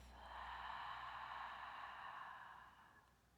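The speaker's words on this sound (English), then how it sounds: "And exhale out of the mouth." A long, soft exhale through parted lips during an evening yoga wind-down, a steady breathy rush that swells then fades over a few seconds, alone and quiet.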